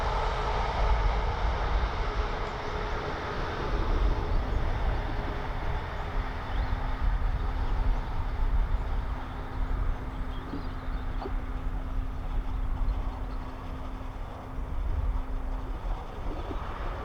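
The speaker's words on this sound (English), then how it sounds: "I'm hoping there's a train passing and we capture it on video" A long, steady rumble of a passing train fills the whole stretch, with a sustained low tone and a broad, even roar.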